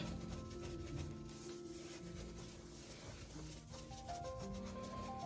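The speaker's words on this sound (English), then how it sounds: "let's finish scrubbing the rest" A kitchen surface being scrubbed clean, a steady close-up rubbing and scouring sound that continues without pause and stands alone with no talking.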